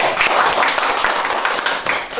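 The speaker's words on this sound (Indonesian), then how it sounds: "Tepuk tangan dong." An audience claps their hands in a quick, dense burst of applause, close and continuous for a couple of seconds.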